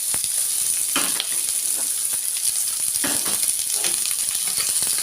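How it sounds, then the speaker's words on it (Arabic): Onions and peppers sauté in a small amount of oil in a pan ahead of chicken wings, giving a steady, close sizzle and crackle that runs unbroken throughout, with a few soft stirring scrapes and no talking. "هناخده تشويحة هو والفلفل قبل ما نحط الفراخ بتاعتنا."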